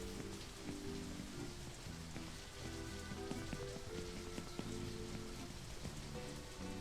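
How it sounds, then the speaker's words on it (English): Steady rain falling in the video game Only Up, a dense continuous patter of drops on surfaces that stays even and close throughout, with no talking over it. "It's raining in your game?"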